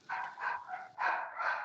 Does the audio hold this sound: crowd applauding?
no